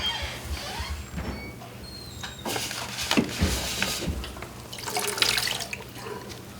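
Coconut water poured into a half-cup measuring cup for a peach and mango smoothie, a splashy, gurgling stream with a few brighter bursts, close and fairly loud, no talking over it.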